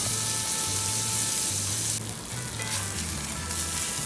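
An A5 wagyu steak sears in a hot pan with a steady, loud sizzle that runs through the whole stretch, easing slightly partway. No one speaks.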